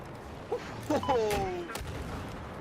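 Battlefield 4 multiplayer combat on the Shanghai map, with a few sharp shots and booming tank-fire thuds spread over a couple of seconds, and tonal game effects mixed in.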